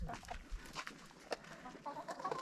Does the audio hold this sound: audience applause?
no